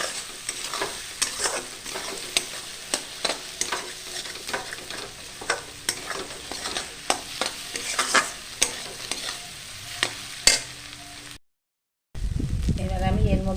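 Eggs frying with Maggi noodles in a pan, a steady sizzle broken by repeated sharp scraping stirs through most of the clip, then a brief dropout and a louder, rougher burst of frying at the end; some voice murmurs faintly underneath.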